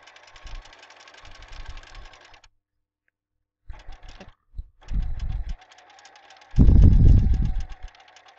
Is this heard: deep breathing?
no